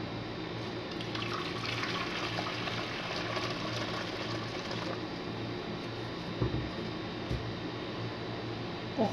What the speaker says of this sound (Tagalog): Ito po ang aking bigas. Lalagyan ko na po siya ng tubig.